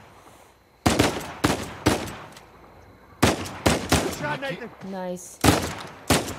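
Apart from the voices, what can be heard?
gunfire in the video game Uncharted 4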